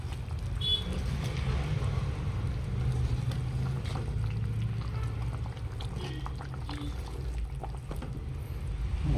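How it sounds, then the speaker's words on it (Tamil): Chicken curry boils in a pot, giving a steady low bubbling and simmering hiss that stays even and fairly quiet throughout, with no talking over it. "நல்லா கொதிச்சிட்ருக்கு"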